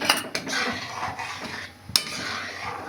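A spoon scrapes and knocks against a pot as carrot pudding cooked in milk is stirred, with fried cashews and raisins going in. A few close clinks stand out over soft stirring noise.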